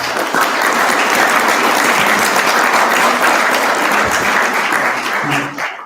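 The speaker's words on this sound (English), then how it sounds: "If we could give him a round of applause" A round of applause from the audience after a talk on personal finance for Muslims, a loud, sustained clapping crowd that stays even for nearly six seconds before a voice cuts in at the very end.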